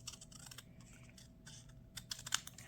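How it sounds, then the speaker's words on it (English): Scissors snip images out of a paper brochure in quick, faint, irregular clicks and crisp cuts close by, with no voices. "So I'm going to cut this brochure. I'm just going to cut the images,"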